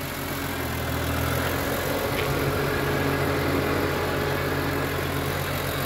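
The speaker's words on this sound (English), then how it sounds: "it sounds very healthy," A 2004 BMW E46 M3 convertible with sequential SMG gearbox and 92k miles idles steadily with a smooth, even rumble, constant and fairly close, with no other sounds on top.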